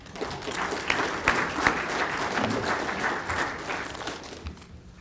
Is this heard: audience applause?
yes